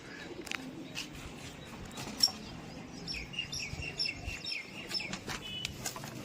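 Faint pigeon calls and soft cooing scattered over a quiet outdoor background, with a few sharp chirps and light rustling.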